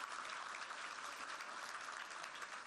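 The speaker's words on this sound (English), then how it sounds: "Yes, give both of those applause." Audience applause at a youth leadership awards ceremony, a dense, even wash of clapping from a large crowd, steady throughout and moderately distant.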